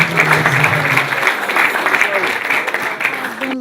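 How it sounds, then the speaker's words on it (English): An audience applauds at a media event, with a dense patter of clapping running through the clip while a voice talks over it. "Please can we applaud Frankie"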